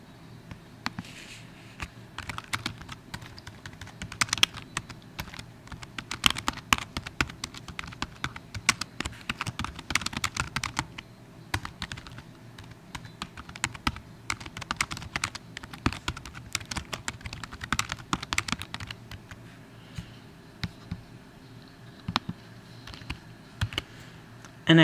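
Steady bursts of clicking keystrokes on a computer keyboard as a comment is typed, irregular rapid taps running throughout at close range with no talking.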